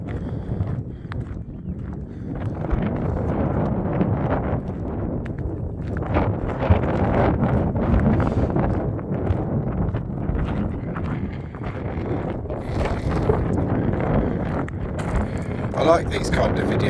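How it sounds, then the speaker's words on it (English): Steady wind buffets the microphone in a continuous roar on coastal sand-flats, with gusts rising and falling throughout and no clear voices. "it's just windy here."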